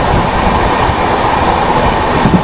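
A passenger train, heard from on board a Delhi to Chennai Rajdhani, rolls past the Shridham Superfast Express, a loud, steady roar of wheels and rushing air with no talk.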